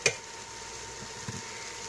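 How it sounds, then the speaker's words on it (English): BBQ chicken reheating in a pan gives a soft, steady sizzle that runs the whole time, with a brief louder pop at the start and another small one near the end. "You can already hear it sizzling"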